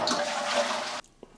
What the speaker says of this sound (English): So I'm going to be flushing the toilet